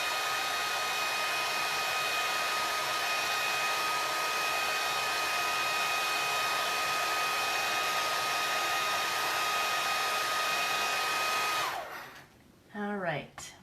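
A hair dryer blows steadily up close to dry a craft piece, a loud even whooshing whine that runs for about twelve seconds, then cuts off and winds down with a brief clatter.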